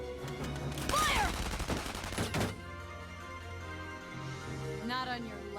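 A burst of gunfire in Valkyria Chronicles 4, a loud clustered volley of shots followed by quieter game sounds and a brief later burst.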